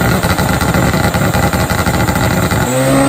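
A turbocharged Hayabusa drag bike at an XDA Pro race, a loud continuous engine roar with rapid pulsing that shifts near the end, heard at close range.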